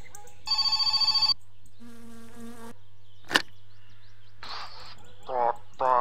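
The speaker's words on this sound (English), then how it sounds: "Oh, another phone call." A phone rings in the video game My Summer Car, with a harsh buzzing ring repeated in short bursts among other clicks and chirps, no voices over it.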